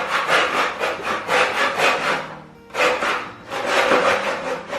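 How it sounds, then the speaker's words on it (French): Wooden wall moulding being hand-sawn into rectangles for decorative panels, with close, rhythmic back-and-forth rasping strokes, a brief pause near the middle, then sawing resumes. "On vient de découper nos premiers rectangles de moulure."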